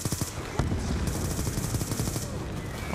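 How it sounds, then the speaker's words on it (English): Rapid gunfire and mortar blasts in the video game Call of Duty Black Ops II, a dense, continuous barrage of loud shots and explosions with no talking. "I'm getting shot at by mortar."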